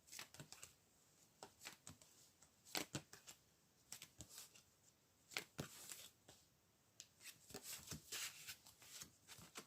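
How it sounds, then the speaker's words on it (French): Tarot cards being shuffled by hand for a reading, with quiet, close riffling bursts repeating irregularly over a near-silent background, no voices. "on peut tirer des cartes supplémentaires sur cette dispute pour essayer d'en apprendre un peu plus"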